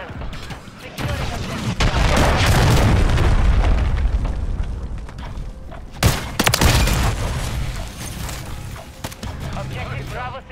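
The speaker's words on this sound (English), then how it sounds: "Hostiles launched a cruise missile." Loud, sustained rumbling blasts from cruise missile explosions in Call of Duty MW3, with a sharp burst of impacts near the six-second mark and fainter crashes afterward, heavy low-end throughout under faint game chatter.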